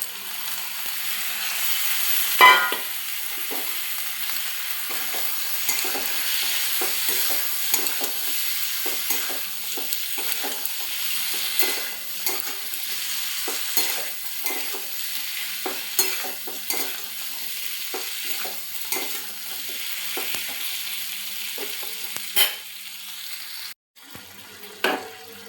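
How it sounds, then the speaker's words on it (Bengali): Green peas frying in a wok for a home-style bottle gourd curry, a steady sizzle broken by frequent scraping stirs throughout. "এবার যে কড়াইশুঁটিগুলো আমি নিয়েছি, কড়াইশুঁটিগুলো এর মধ্যে দিয়ে দেব"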